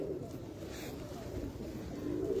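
A Ferozpuri pigeon coos softly at close range, giving low repeated murmurs over a steady hum of background noise.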